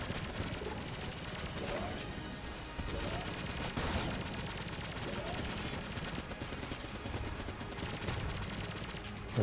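Rapid, dense gunfire pours out of a weapon in the video game Enter the Gungeon during a boss fight, with continuous bursts and impacts filling the whole stretch.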